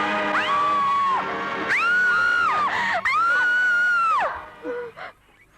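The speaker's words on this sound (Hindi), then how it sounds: "तुम इतनी जोर से चिल्लाए" A loud, high scream rises and falls in several long wails, close and piercing, then cuts off into brief quieter sounds.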